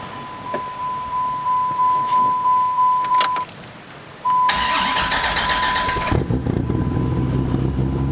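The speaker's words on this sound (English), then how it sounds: "All right, let's start her up." A Whipple supercharged Cadillac Escalade with an oil leak cranks through a steady, repetitive starter whine, pauses, then catches and fires into a loud, rough engine roar that settles into a busy idle close by.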